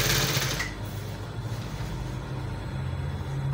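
Sewing machine stitching a V neckline, a steady close mechanical whirr with a rapid needle rhythm running continuously, no talk.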